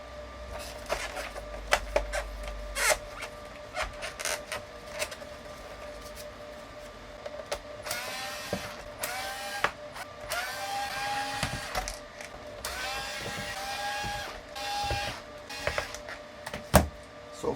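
Screws are removed one by one while a 27-year-old IBM KB-9828 keyboard is taken apart, giving quiet clicks and short squeaky mechanical turns in a steady, intermittent rhythm at close range.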